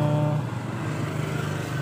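A Yamaha Mio scooter engine idles steadily and smoothly nearby after a CVT repair, a low even hum with no revving or voices.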